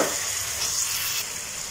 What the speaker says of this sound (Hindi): ये मसाले थोड़े पके बाद इसमें टमाटर ऐड करिए। इसके बाद ये चॉप करे हुए टमाटर ऐड कर ले।